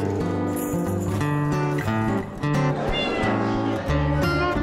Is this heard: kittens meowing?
yes